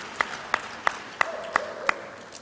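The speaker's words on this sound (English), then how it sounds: "I'd like for all of us to applaud the men that we have." A handful of slow, separate claps sound at a women's conference in Lusaka, Zambia, about six evenly spaced sharp hits over a quiet room, with a faint voice underneath.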